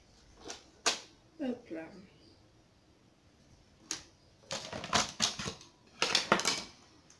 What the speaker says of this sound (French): je suis en train de découper l'extérieur